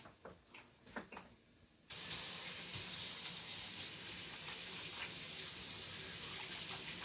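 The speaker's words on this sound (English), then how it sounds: "let me rinse my hands off" Hands are rinsed under a running kitchen tap. A couple of soft knocks and rustles come first, then a steady, close, hissing stream of water runs on for about five seconds, with no voices.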